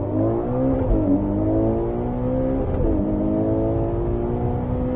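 A Ferrari Purosangue SUV's V12 engine revs, its smooth multi-toned howl rising and falling across a few sweeps, loud and continuous with no talking.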